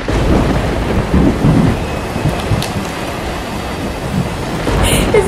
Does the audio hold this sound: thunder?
yes